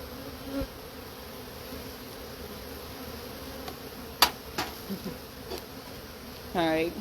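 Honey bees buzz at the hive in a steady, close drone, with a few sharp knocks and clicks from hive handling and a brief louder burst near the end.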